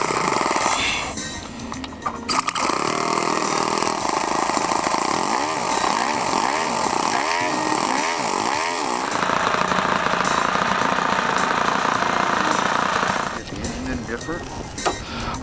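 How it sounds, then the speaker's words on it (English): ASP .61 four-stroke glow engine on a NitroPlanes PT-19 model plane, running loud and close with a steady rasping drone, revving up and down in waves mid-run before settling to a constant high pitch. "As you'll see, this is a sweet running engine."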